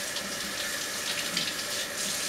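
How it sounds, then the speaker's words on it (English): Water runs steadily from a kitchen tap as hands are rinsed beneath it, a continuous close hiss and splash with no talking. "Let me rinse my hands quickly,"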